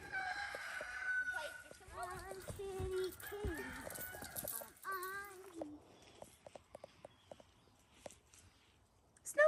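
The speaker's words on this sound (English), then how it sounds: "The roosters are crowing." Roosters crowing repeatedly on a farm on a cool morning, with several crows in the first half followed by scattered clucks, footsteps and light handling noises, moderately close and fairly quiet.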